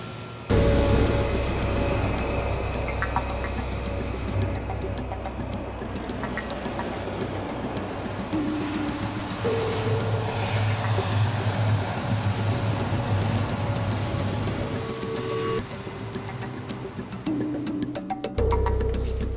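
Jet fighter aircraft roaring during naval fighter pilot training, a loud sustained engine roar with a shifting whine that swells and fades, close and dominant for the whole stretch.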